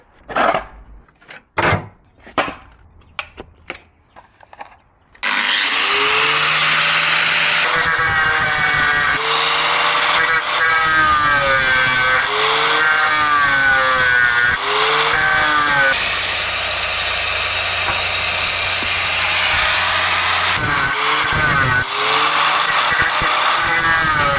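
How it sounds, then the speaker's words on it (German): Angle grinder cutting into a metal flange, a loud steady whine starting after a few sharp knocks, with pitch dipping and rising as the disc bites, running continuously to the end. "Da muss ich mir ein Stück rausflexen, damit ich die hier rausmachen kann."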